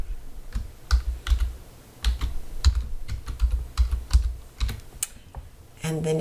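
Someone types a password on a computer keyboard: an irregular run of close, clicky keystrokes in quick bursts with brief pauses.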